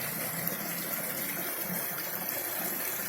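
Clear water pouring steadily out of a natural spring, a close, constant gushing rush with no pauses and no talk.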